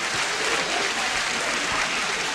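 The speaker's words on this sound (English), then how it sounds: "Let's get a round of applause, y'all." A steady round of applause and cheering from a crowd, dense and continuous throughout, with no talk over it.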